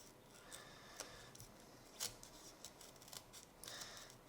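A dull knife blade slices along the edge of an AR900 model aircraft wing, giving faint, scattered scraping crackles with a few sharper snips, quiet and close.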